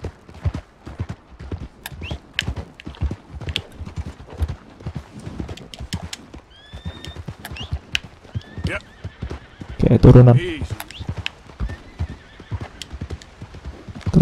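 Horses in Red Dead Redemption 2 clip-clop steadily while walking along a riverside, with a loud neigh rising near the ten-second mark; someone talks intermittently over the hoofbeats.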